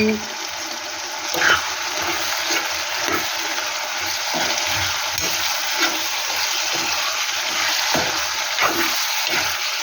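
Ginger and spices frying in oil in a pan for a chicken liver curry, giving a steady close sizzle with faint stirring scrapes throughout.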